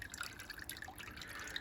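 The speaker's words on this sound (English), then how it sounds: "So as you can hear, the waterfalls are now flowing." Water trickles and drips softly down a drip-wall waterfall inside a bioactive Exo Terra terrarium built for poison dart frogs. The sound is faint, close and steady over a brief moment.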